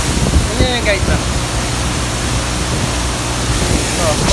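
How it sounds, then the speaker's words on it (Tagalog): Poocan Falls waterfall with strong wind and spray, a loud, continuous broadband rush of falling water and gusting wind close to the microphone, with a voice briefly audible underneath. "Puukan Falls."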